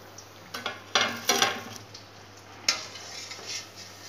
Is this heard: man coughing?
no